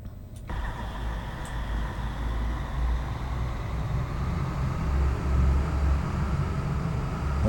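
A Class 222 diesel multiple unit in Train Simulator 2020 runs with a steady, loud low engine drone that starts abruptly and swells slightly as it pulls along, with no talking over it.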